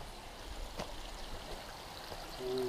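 Water flows steadily inside the Smocza Jama cave in Zakopane, a continuous close trickling rush that grows slightly louder near the end, with no speech.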